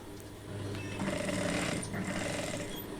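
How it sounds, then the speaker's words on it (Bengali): A sewing machine runs steadily while stitching elastic onto salwar fabric, giving a continuous, fairly quiet mechanical whir that holds throughout. "কাপড়ের উপর সেলাইটি দিয়ে রাবারটি মাঝখানে রাখবো"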